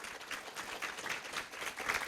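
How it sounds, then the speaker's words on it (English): An audience at a charity grant-finalist presentation event claps in a steady, dense patter of applause, heard at a moderate distance and fairly soft, with no voices. "Another round of applause."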